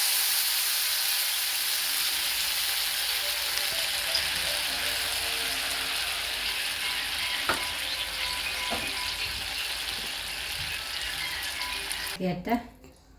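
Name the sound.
tamarind water poured into a hot pan, sizzling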